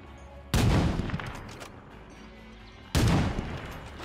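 Two heavy gunshot blasts from State of Decay 2, each a sudden loud crack with a booming tail that fades over about a second, spaced a couple of seconds apart.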